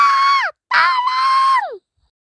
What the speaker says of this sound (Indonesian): Tudung merah berteriak dengan sangat kencang.